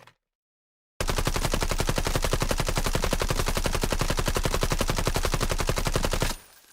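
AUG rifle firing on full auto in the video game Delta Force, a loud rapid stream of evenly spaced shots that starts abruptly after a second of silence and runs for over five seconds before cutting off.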